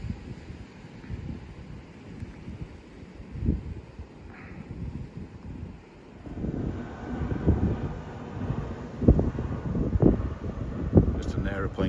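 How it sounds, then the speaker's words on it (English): An aeroplane passes overhead near the Fuerteventura Airport runway at Caleta de Fusta, a low rumble that swells in the second half of the clip, mixed with gusty wind buffeting the microphone at a coastal fishing spot. "Just an aeroplane going overhead."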